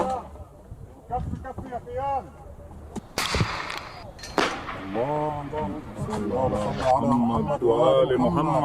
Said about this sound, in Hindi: किस तरीके से गोलियां दागी जा रही हैं